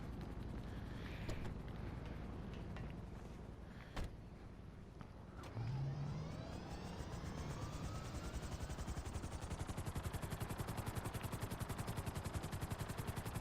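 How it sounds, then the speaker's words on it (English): Helicopter in GTA 5 at an airport, rotor spinning up into a steady loud rapid chop that accelerates and holds, with a brief rising whine and a few sharp clicks early on. "Let's just quickly borrow this helicopter."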